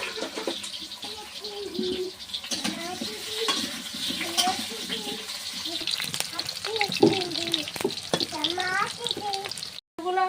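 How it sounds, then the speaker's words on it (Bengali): Potatoes frying in a pan in a home kitchen crackle and sizzle steadily, with stirring scrapes and a brief clatter, while a person talks over the cooking. "আলুগুলো এবার ভেজে নেব"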